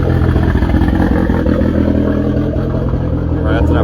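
A turbocharged Polaris Pro R engine revs loud and close, a dense continuous roar with rattling clatter that holds steady throughout.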